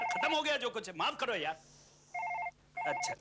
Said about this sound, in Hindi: यार एक और कंडोलेंस फोन